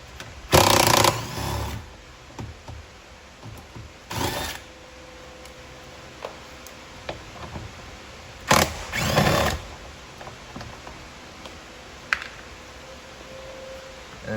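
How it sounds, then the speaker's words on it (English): A 5mm Allen socket on a power driver works bolts loose from a Fiat 500 Abarth door during window regulator and motor replacement, in several short bursts of whirring separated by quiet handling clicks. "You take a 5mm Allen socket to remove the bolts."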